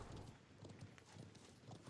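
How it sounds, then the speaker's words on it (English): Hooves of galloping enemy cavalry in the video game Conqueror's Blade, a faint, steady stream of muffled clip-clop beats with no break. "there's some enemy cavalry coming in now"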